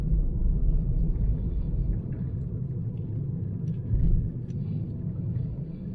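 A 2021 Maruti Suzuki Baleno Delta petrol hatchback drives through the city at about 1500 RPM with the AC on. Inside the cabin there is a low, steady rumble of tyre and road noise and little engine sound, with mild swells in level.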